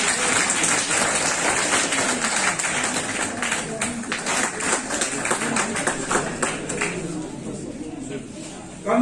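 An audience at a National Voters Day event applauds with dense, steady clapping that thins out toward the end, heard close and fairly loud.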